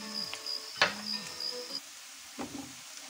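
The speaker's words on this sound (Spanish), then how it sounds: "Lo sofrimos aquí unos segundos primero. ¡Qué olorcito más rico! El pimentón frito." Sweet-sour pimentón sizzling as it fries for a few seconds in a pan for Zamora-style bacalao encebollado: a steady close crackle with a few sharper pops and faint tonal kitchen hum.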